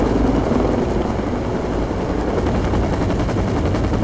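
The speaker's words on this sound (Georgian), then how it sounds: "აი სწორედ ეს არის Mi-24 ტიპის საბრძოლო ვერტმფრენი" An Mi-24 combat helicopter flies at a military parade: a dense, loud, continuous rotor-and-engine roar with a rapid chopping texture throughout, no voices.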